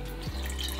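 Stout beer pours from a tap into a GrowlerWerks uKeg nitro growler, a brief close gurgling splash of liquid.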